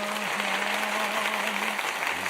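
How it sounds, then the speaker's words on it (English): Steady applause fills the whole stretch at an online book-writing session, with even, continuous clapping at moderate volume and no voices on top. "Get the applause"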